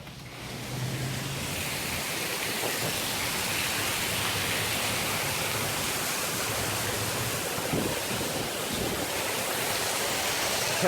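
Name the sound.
heavy rain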